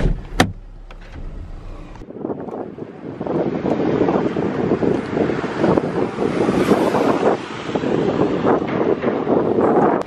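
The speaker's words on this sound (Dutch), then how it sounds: "Het waait wel een beetje." Outdoor wind buffets the microphone with a loud, fluctuating rumble and roar, after a brief quieter stretch with a few handling knocks at the start.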